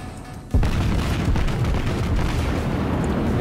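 In World of Warships, the battleship New York fires a naval gunfire salvo at the enemy Warspite: a sudden loud boom breaks in after a brief lull, followed by a sustained heavy rumble.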